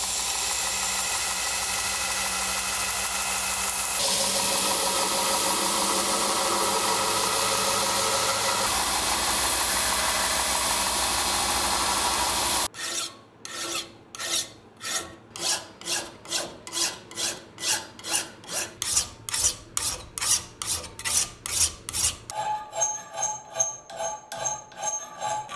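Steel for handmade scissors is ground on a grinder, a steady loud abrasive roar for about twelve seconds, then a rapid series of rhythmic rasping strokes like filing, ending in a brief harsher scrape.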